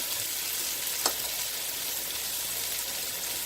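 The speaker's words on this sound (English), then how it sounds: "so fast and easy to cook on the Curtis Stone Dura electric griddle" Jalapeno cheddar turkey burgers sizzle steadily on a Curtis Stone Dura electric griddle, a close, even hiss of frying with one brief sharp pop partway through and no voices.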